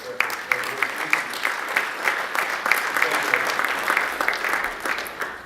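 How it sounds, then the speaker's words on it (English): Steady round of applause from attendees at a corporate member recognition and awards luncheon, many hands clapping at moderate distance with an even, sustained level. "So give yourselves a round of applause."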